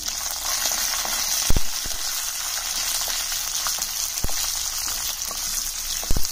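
Green chilies frying in oil in a pan along with urad dal, a steady loud sizzle with a few knocks from stirring, no talking.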